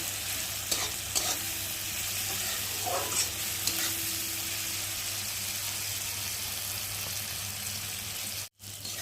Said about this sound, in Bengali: মশলাটা দিয়ে আর একটু ভালো করে কষিয়ে নেব।